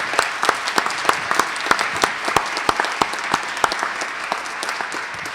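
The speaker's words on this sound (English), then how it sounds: "so she deserves a huge applause" Audience applause at a high school annual meeting, a moderate crowd clapping steadily with distinct individual claps standing out at close range.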